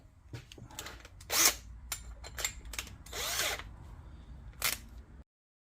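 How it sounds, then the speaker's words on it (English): A sharp 29/64 drill bit reams out holes for fitting a John Deere snow plow to an old White mower, in several close drilling bursts of varying length separated by short pauses. "That seems to be a good sharp blade bit. So we'll ream a couple of these holes out."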